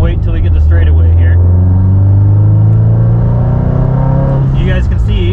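A grey Mustang making 500 wheel horsepower accelerates hard on a road, its engine note a loud, steady, rising roar heard from inside the car, with a voice speaking briefly at the start and end.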